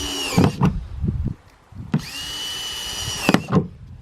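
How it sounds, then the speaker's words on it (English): A power drill with a 1-inch bit bores holes in a plastic bin in two sustained whirring bursts, with clunks and knocks of the bit and plastic between them, close and fairly loud. "I usually take a 1-inch drill bit like this, and I start to drill some holes in it"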